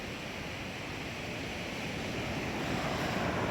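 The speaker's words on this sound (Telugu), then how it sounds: "చూడండి అలలు" Ocean waves washing onto Suryalanka beach at night, heard as a steady, broad rushing surf that fills the whole moment with no clear individual breaks, fairly faint and continuous.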